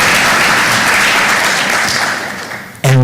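A large audience claps loudly at a Magereza Sacco savers workshop, a dense, sustained round of applause that fades near the end before a sudden loud burst.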